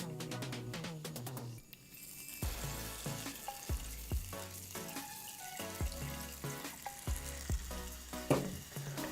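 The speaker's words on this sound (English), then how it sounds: "For that we're gonna melt the butter." Butter melts in a pan over a flame, producing a steady close sizzle with scattered clinks and scrapes in a home kitchen, some running water faint in the background.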